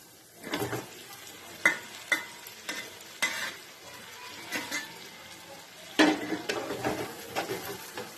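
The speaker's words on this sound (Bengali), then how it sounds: "এবার মাংসের সাথে মশলাটা ভালো করে মিশিয়ে নেব" Chicken being stirred in a sizzling pan of frying spices, with repeated scraping strokes at an uneven rhythm over a steady close-up sizzle.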